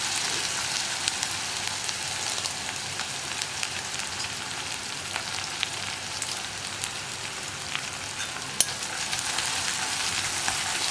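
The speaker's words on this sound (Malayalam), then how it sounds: "ഇനി ഉള്ളി ഒന്ന് കളർ ചേഞ്ച് ആയി വരുന്നത് വരെ ഒന്ന് ഇളക്കി കൊടുക്കുക." Onions and curry leaves fry in a pan while being stirred, a steady, moderately quiet sizzle with scattered crackles and occasional scraping taps throughout.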